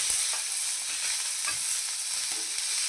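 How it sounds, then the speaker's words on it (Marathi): Soft sizzling and light stirring of spices roasting in a pan with amla (Indian gooseberry) for chutney, a steady close frying hiss with faint scraping touches. "सर्व सामग्री भाजून घ्यायची आणि त्यावर आता आपण हे आवळे टाकून घेणार आहे"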